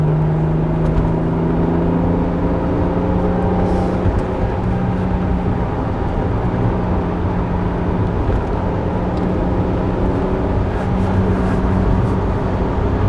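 An Acura NSX travels over a very bumpy stretch of road just past construction, its steady loud engine drone and road rumble filling the cabin continuously with no talk.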